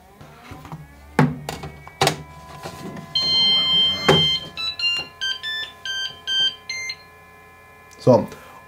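Bresser Rex 3D printer powering up, a series of short electronic beeps and tone sequences mixed with clicks and mechanical knocks, close and fairly loud.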